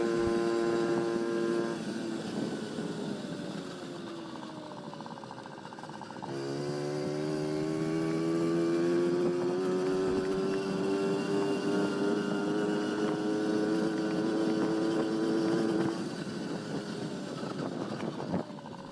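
A 1981 Honda Express NC50 barn-find moped with an SHA carburetor runs while being ridden, its small engine buzzing steadily and close, rising and falling in pitch as it revs through the ride.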